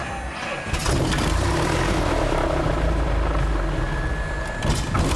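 A propeller airplane engine cranks and catches, then settles into a loud, steady roaring drone that fills the cabin for several seconds, with no speech over it.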